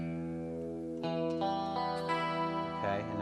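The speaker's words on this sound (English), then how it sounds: "I just want the chorus and just a touch of reverb" An electric guitar played through a chorus effect with a light touch of reverb rings out in sustained, shimmering chords, with new strums entering about every half second to second and the notes blending into a wide, wavering tone.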